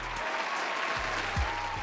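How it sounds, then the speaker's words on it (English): An audience claps in a steady, moderately loud round of applause that runs for the full moment without pause. "Give us a round of applause."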